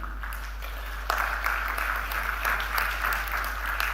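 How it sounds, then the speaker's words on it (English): An audience at an event celebrating Indian women in aviation breaks into applause, starting light and swelling into fuller, rippling clapping after the first second, over a steady low electrical hum. "Everybody deserves a great applaud."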